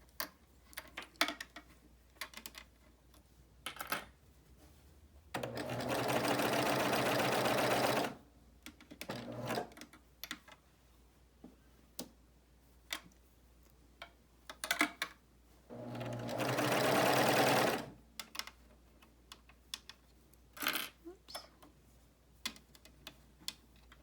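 A Baby Lock Euphoria coverstitch sewing machine runs in two steady bursts of a few seconds each, a fast mechanical whir close by, separated by quiet stretches of light clicks and fabric handling.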